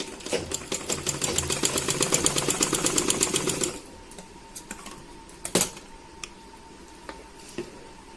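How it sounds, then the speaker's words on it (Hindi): A sewing machine runs steadily, stitching a princess cut blouse with a rapid rhythmic chatter for about four seconds. It then stops, leaving a few light clicks and knocks. "और अब इसको हम सिलाई करेंगे।"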